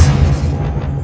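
The Expelliarmus spell is cast in Hogwarts Legacy with a brief, heavy low boom that dies away quickly within a second, loud and close.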